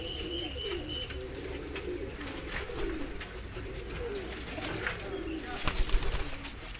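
Pigeons coo in low, repeated rolling phrases against steady background noise, several birds in a loft calling continuously at moderate distance.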